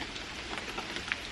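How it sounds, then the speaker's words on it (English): Steady rain falls at night outside Wing's Castle, a dense, even hiss with scattered drops, close and continuous, with no voices. "soak in a little bit of this rain as well"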